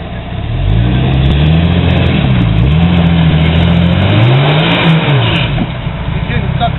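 A 4x4 off-road vehicle climbs rock near a waterfall in Big Bear, its engine revving loud and close in rising and falling surges over a steady rumble, while people talk nearby.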